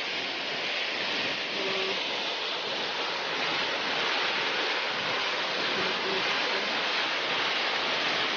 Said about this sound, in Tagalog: Little Hawaii Falls.